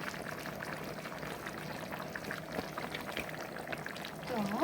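Ground pepper is tipped into a pot of boiling carrots, giving a faint, uneven patter and soft rustle over a low simmering bubble, with a clink near the end.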